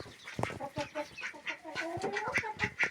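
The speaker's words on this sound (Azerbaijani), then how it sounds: "Toyuqlar da yemin yeyib çıxdılar yatışa." Chickens clucking in a henhouse after evening feeding, a busy mix of short clucks and rising calls from several birds nearby.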